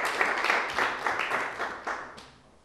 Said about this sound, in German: dann gibt es natürlich einen Beifall von den anderen wenigen Gästen